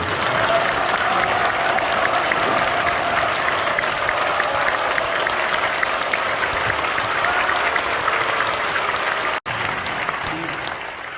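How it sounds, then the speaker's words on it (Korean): A church congregation applauds at a pastor's installation thanksgiving service, sustained, even clapping from a large crowd filling the whole stretch, with a brief dropout near the end and faint voices mixed in. "저분이 나오실 때가 여기 박수를 쳐요."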